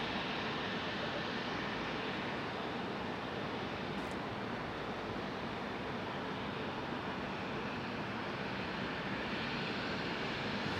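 A United airliner turning around at Raleigh-Durham airport, its steady broadband jet roar filling the whole span at a constant level, fairly distant with no distinct peaks.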